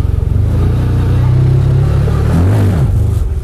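A CF Moto UForce 1000 side-by-side crawls slowly up a steep off-road slope, its engine a loud, close, rumbling drone with a brief rise in revs near the end.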